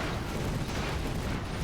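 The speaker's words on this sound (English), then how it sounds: "there are those two cannons that are shooting that one" Cannons firing from airships in the game Airships: Conquer the Skies, a continuous rumbling barrage of booms and bursts blending into a dense roar, with no talk.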